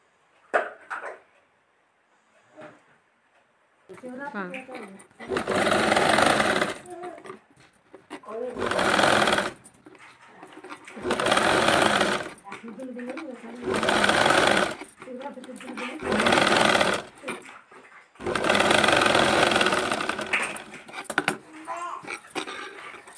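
A sewing machine stitching piping onto a cutwork sleeve runs in repeated loud bursts of steady whirring, separated by pauses where someone talks.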